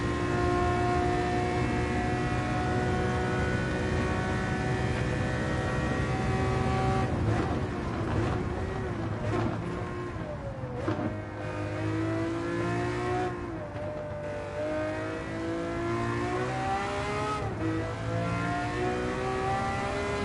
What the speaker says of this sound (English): So you can get banned from the track if your car is too loud.